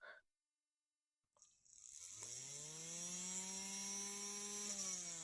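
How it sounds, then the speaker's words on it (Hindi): A small 5V DC motor overdriven by a 9V battery, with a pen refill fitted on its shaft, spins up into a steady, high, buzzing whine that holds loud and close with no talk. "इसका आरपीएम जो है वो काफ़ी ज़्यादा है, क्योंकि ये 9 वोल्ट की बैटरी है और ये 5 वोल्ट का डीसी मोटर है।"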